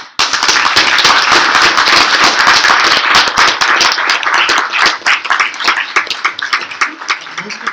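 Loud, close audience applause for activist Jibran Nasir at a 2015 university talk, a dense burst of many hands that gradually thins into scattered individual claps.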